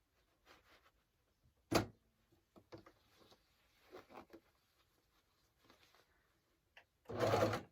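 A sewing machine stitching a reversible peasant bodice runs in short, faint bursts separated by quiet gaps, with a louder spurt near the start and another at the end.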